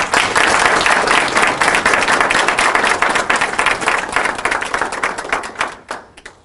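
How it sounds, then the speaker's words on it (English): Dense, loud audience applause fills a hall at a National Quilting Day 2019 kickoff event, sustained clapping that thins and fades toward the end. "Please give them a round of applause."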